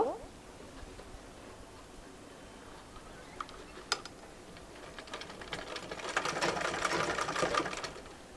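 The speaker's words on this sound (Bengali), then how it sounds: "এবার আমি এই যেখানে সেলাইটা করেছি ঠিক তার মাঝ বরাবর আরও একটা সেলাই করব" A sewing machine stitches cloth around elastic for a girl's gathered pants, with faint early ticks building into a louder, rapid, continuous run near the end, close and fairly quiet overall.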